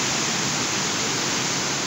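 Randha Falls waterfall roars in a steady, dense wash of spray noise, close and loud throughout with no pauses, water spattering near the camera.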